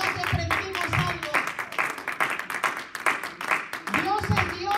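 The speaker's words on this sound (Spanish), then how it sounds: "Den un aplauso al Señor" A church congregation clapping in a steady rhythmic beat, many hands striking together at a moderate level while voices talk and call out over the claps.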